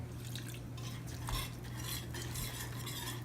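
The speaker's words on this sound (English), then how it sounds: "I'm just going to kind of get that more stirred up and incorporated there" A utensil stirs pot pie filling in a pan, scraping and clinking against the metal in an irregular rhythm over a low background hum and faint sizzle, with no voices.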